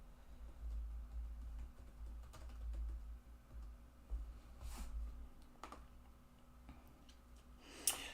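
Quiet typing on a computer keyboard, with soft, irregular key clicks and a low background hum, no voices.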